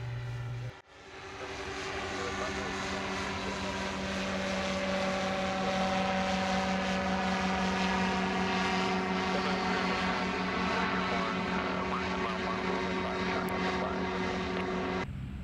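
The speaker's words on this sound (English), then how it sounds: "This nice little RV 6 or 7 came in while we were filming, so we thought we'd get his landing." A small RV-6 or RV-7 tail-dragger propeller airplane comes in to land, a loud, steady propeller and engine drone holding for the whole stretch with only slight swells, heard alone.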